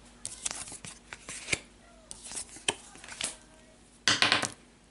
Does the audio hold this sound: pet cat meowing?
no